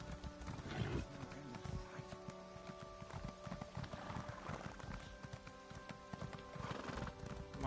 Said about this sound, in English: Come on, giddy up, horse.